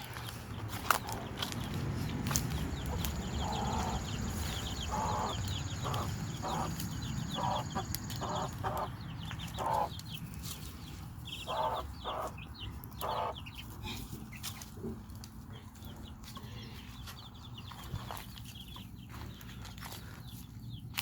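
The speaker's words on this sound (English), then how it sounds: "I want to show you this hen in beauty." Soft, repeated hen clucking close by, in short irregular bursts over steady outdoor background noise.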